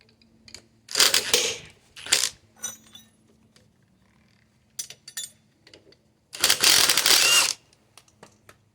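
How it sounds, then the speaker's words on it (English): Ratchet wrench tightening a nut on a lift kit during a full install, heard as a few separate bursts of clicking at moderate distance, with quiet pauses between the strokes. "We'll torque it to 51 foot-pounds on the first pass, and that wants 180 degrees of rotation."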